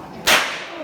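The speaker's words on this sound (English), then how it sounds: "the way that we crack the whip is just like this" A single sharp, loud crack of a stock whip, used on horseback at Molly's Farm in Caversham Wildlife Park, Western Australia, snaps out nearby and alone, then fades quickly.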